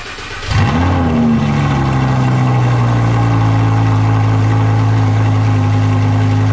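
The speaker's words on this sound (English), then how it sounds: "So let's get that cold start on the 2015 Audi R8 V10." A 2015 Audi R8 V10 fires up from cold: a sharp starter burst and flare at about half a second, then a loud, steady, close high idle drone that holds to the end, with no talking.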